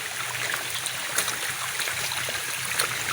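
Clean mountain spring water flows steadily, a continuous close rush and trickle with no break and no voices over it.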